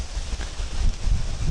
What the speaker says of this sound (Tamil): ஆனால் ரொம்ப காற்றடிக்குதுங்க.